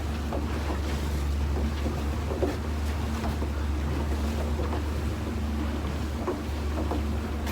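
Small beach-launched fishing boat running at about 4 knots while herring nets are shot, a steady engine drone with wind buffeting the microphone and water rushing past, continuous and close.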